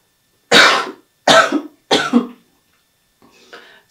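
A Swedish woman coughs three times in quick harsh bursts close to the mic while recovering from an illness, followed by a faint throat-clearing rasp.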